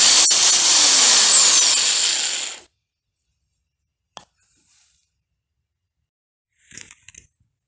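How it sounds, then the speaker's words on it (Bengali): A power drill runs in screwdriver mode for a loud, close whirring burst of about two and a half seconds that cuts off abruptly. A few faint clicks follow in near silence. "এটা স্ক্রু ড্রাইভার মোড।"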